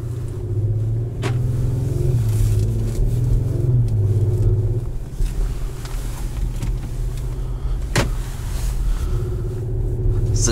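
A 2018 Audi SQ5 with a twin-turbo V6 on the move, heard from inside as a steady low engine drone and road rumble, with a faint tick or two along the way.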